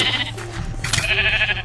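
Sheep bleating in Minecraft on the Mineplex arcade server: two or three sustained, nasal game bleats in quick succession, loud and close over a steady low background hum, with no talk.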